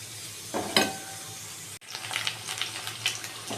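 Potatoes frying in a pan, lightly salted, a close soft sizzle with a brief louder hiss early on, a short cut, then scraping stirs over the continuing sizzle, no talk.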